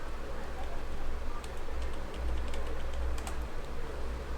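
Someone types a command on a computer keyboard, producing a quick run of light, close key clicks over a low steady hum.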